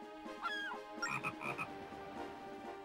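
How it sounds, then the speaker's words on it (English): Frogs croak in The Legend of Zelda: Phantom Hourglass, a short burst of clear, close, rhythmic ribbits from the game with no talking over them. "Anyways, more frogs."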